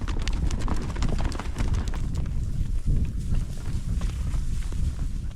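A herd of ranch horses on a spring drive runs close by, their hooves clip-clopping in a dense, continuous patter on the ground.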